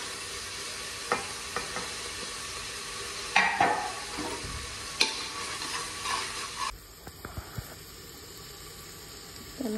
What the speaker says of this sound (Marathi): त्यानंतर ही जी पालक चिरली होती मी ती टाकते त्यात.